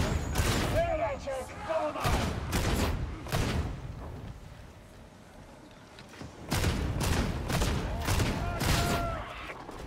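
A flamer weapon firing in Warhammer 40k Darktide, heard as roaring bursts and blasts of fire mixed with gunfire, some loud and some quieter, amid the chaos of battle.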